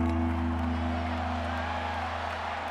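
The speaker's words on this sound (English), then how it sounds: "A big play here as the crowd noise rises." Stadium crowd noise in the American football video game Madden NFL 25: a dense, steady roar of a large crowd with an underlying low hum. It stays loud and continuous throughout, with no talk over it.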